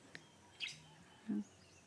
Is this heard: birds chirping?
yes